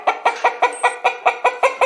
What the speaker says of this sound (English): That's right, it's the hen.